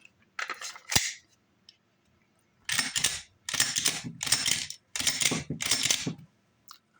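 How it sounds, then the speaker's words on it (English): Live rounds ejected from a Glock 43X compact pistol fitted with a Holosun 407K X2 red dot sight: a sharp slide snap, then two series of crisp metallic clacks and rattles close up, with quiet gaps between. "try to eject a few rounds"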